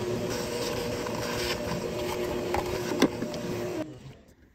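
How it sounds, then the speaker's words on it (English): A vacuum cleaner drones steadily while sucking up spilled battery acid in a 1957 MG MGA roadster, with a few rattling clicks before the motor cuts off and winds down near the end. "I'm going to try to vacuum up as much of this battery acid as possible"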